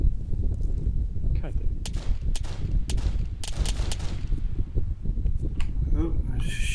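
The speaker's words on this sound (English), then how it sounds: "Shooting at a hunter." Gunfire from Arma 3 squad play: repeated sharp shots scattered over a steady rumble, some sounding close and loud, others more distant, with speech-like voices mixed in.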